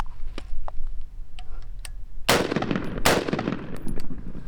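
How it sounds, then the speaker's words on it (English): Two 5.56 rifle shots, XM193 and green-tip M855, fired at a Level IV armor plate, loud sharp blasts less than a second apart with ringing decay, preceded by faint clicks. "So gonna shoot both of these rounds and see what happens."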